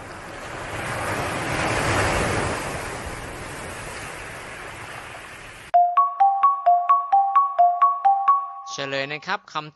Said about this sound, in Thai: เป็นเสียงของคลื่นทะเล